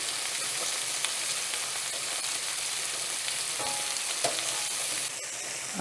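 Shrimp sizzling and frying in a hot pan, a dense steady hiss with light crackles throughout, ending with a short clatter as they are flipped.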